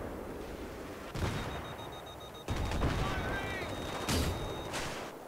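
Gunfire in Battlefield 3 comes as several loud booming shots or blasts spaced a second or more apart, each with a short rumbling tail, over a steady background din with whistling game effects.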